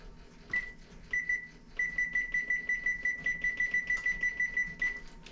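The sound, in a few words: kitchen timer beeping being set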